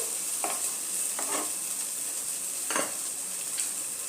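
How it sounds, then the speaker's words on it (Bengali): Masala cooked down with cashew and melon seed paste sizzles softly in a pan for a cauliflower roast. A few brief scraping stirs sit over a constant hiss, with no voices. "এখন কাজু আর মগজের পেস্টটা দিয়ে আমার মশলাটা অনেকটা ভালো করে কষানো হয়ে গেছে।"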